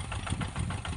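A tractor engine runs steadily and continuously at a constant pace during field tillage, loud and close, with a rumbling, throbbing low-pitched drone.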